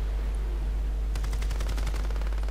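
A PKM machine gun in Battlefield Play4Free fires a rapid, even burst of sharp shots that starts partway in and keeps going, loud over a constant low rumble.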